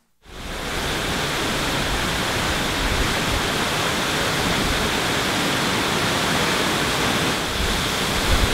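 Waterfall plunging into a cliff-jumping pool, a loud, steady broadband roar of falling water heard close up and continuous throughout, with no voices.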